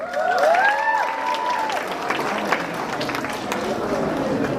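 Applause from an audience at a school tech competition awards ceremony, as the Tech Disrupt winner for grades 9 to 12 is announced; steady dense clapping with crowd noise and a voice talking over it.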